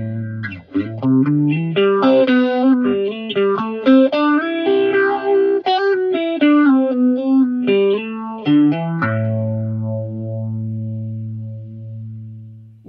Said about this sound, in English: I have a distortion sound and a Phase 90 sound at the same time